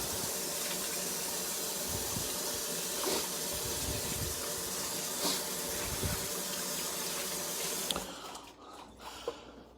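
Water runs from a kitchen tap during handwashing, a steady close hiss and splash that lasts about eight seconds before it stops, leaving quiet scattered kitchen noises.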